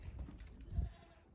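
A goat bleats nearby, a short throaty cry heard once against quiet surroundings.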